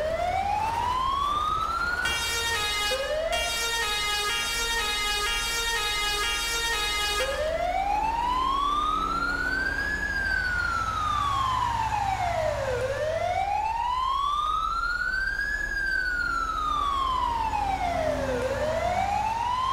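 A Cork City Fire Brigade emergency vehicle siren responding to an industrial fire, loud and continuous with slow rising and falling wails after a brief fast yelp, over steady road rumble.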